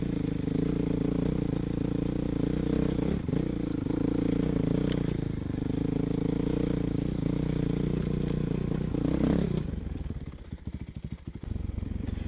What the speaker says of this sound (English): enjoy the sweet, sweet sound of that 450 four-stroke